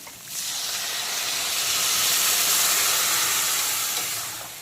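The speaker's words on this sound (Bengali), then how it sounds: "এখন দিয়ে দেবো কিছুটা পরিমাণ জল" Water poured into a hot pan of frying pumpkin and green mango for a fish-roe chutney sets off a loud, sustained sizzling hiss that swells quickly and holds steady, close up.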